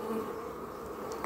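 Honey bees buzz in a dense, steady hum around an open hive, with no voices.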